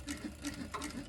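A very fast sewing machine stitching a circle in fabric, its needle chattering in quick, regular bursts at close range, fairly quiet and alone.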